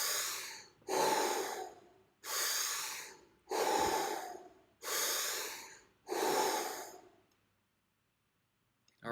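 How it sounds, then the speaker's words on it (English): During guided breathwork, five deep, slow breaths are drawn close to the microphone, each a long, airy rush in a steady rhythm, followed by a few seconds of near silence. "Slow it down, deeper breaths."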